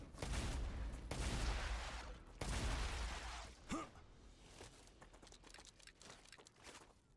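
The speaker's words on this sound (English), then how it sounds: "Let's test the shotgun." Shotgun blasts in the video game StarRupture, two loud booming shots in the first few seconds, each trailing into a rumbling tail, followed by quieter game effects and a brief whoosh.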